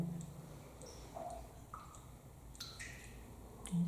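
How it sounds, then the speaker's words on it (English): Rainwater dripping inside an old abandoned stone well at Hollinshead Hall: a few sparse, faint, irregular drips echo in a quiet, hollow space, with no voices. "And then it's just drips coming from the rainwater."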